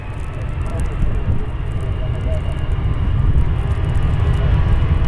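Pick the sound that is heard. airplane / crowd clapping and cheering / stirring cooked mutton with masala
airplane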